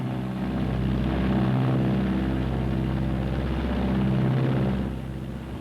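Martin B-26 bomber engines drone in flight with a steady, loud, low propeller roar that swells slightly and then eases, with no voices over it.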